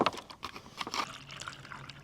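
Water poured from a bottle into a camping cup at a state park campsite, a quiet uneven splashing and gurgling trickle that comes in short bursts at low volume.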